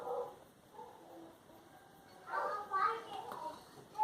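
Dogs next door bark in a couple of quick, moderately distant bursts, with a voice also heard faintly nearby.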